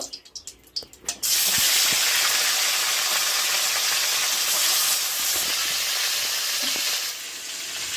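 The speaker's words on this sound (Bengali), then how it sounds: "গরম কড়াইয়ে তিরিশ গ্রাম পরিমাণ সর্ষের তেল দিয়ে গরম করে নিচ্ছি তেল গরম হয়ে গেছে এবার মাছগুলো দিয়ে ভেজে নেব" Fish dropped into hot mustard oil in a wok burst into a loud, steady sizzle after a few clinks, the hissing frying noise continuing close and strong before easing slightly near the end.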